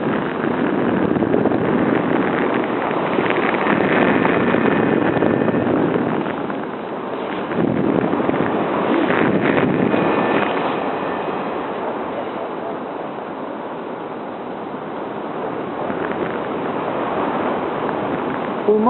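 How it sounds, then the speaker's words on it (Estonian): Strong wind buffets the microphone in heavy, continuous roaring gusts that swell and dip for the whole stretch, loud and close, with no clear voices standing out above it. "Siis mul tuul on kõva"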